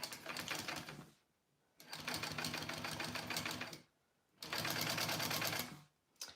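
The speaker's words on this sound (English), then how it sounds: "So we're going to sew this handle first." A sewing machine stitches a vinyl handle for an on-the-go pouch at a long topstitch length, in three close, rapid mechanical bursts separated by short pauses.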